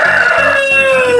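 Breeder chickens in a farm setting, with a loud nearby rooster crow ringing out over steady clucking hens.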